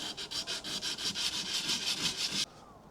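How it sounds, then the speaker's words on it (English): Sandpaper rubbing by hand across the wood of an antique music cabinet under restoration, a fast, steady run of close, scratchy back-and-forth strokes that stops abruptly. "I hate sanding things."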